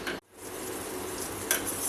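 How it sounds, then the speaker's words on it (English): A homemade immunity-boosting health drink with jaggery (gur) boiling in a pot on the stove, with steady bubbling and stirring close by, a brief break near the start and a light clink of a utensil partway through. "Now boil it well,"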